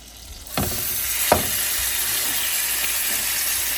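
Tomahawk steak frying in melted butter gives a steady, close broadband sizzle, broken by two sharp crackling bursts near the start, with no talk.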